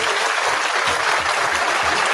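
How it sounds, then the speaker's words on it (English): A dense, continuous round of applause from a crowd, loud and close, filling the whole moment without a break. "Give Dave like a round of applause for that."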